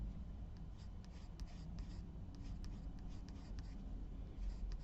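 A charcoal pencil shading on card laid over a soft, squishy mat, making a faint, continuous scratchy rasp in quick back-and-forth strokes, close and quiet, with no voices.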